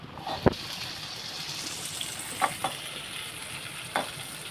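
Chopped onion and green chilli sauté in oil for paneer bhurji, a soft, close sizzle broken by three sharp spatula knocks against the pan.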